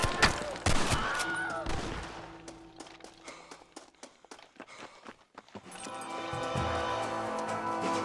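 Bandit gunfire in the Red Dead Redemption video game: a burst of close, sharp shots in the opening seconds, then scattered lighter cracks and thumps, with dense rumbling action sound returning toward the end.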